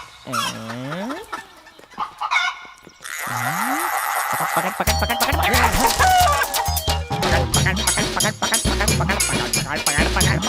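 Chickens cluck and squawk, with a rooster crowing, in a Hindi-dubbed film scene; the clucking grows loud and busy, with voices speaking over parts of it.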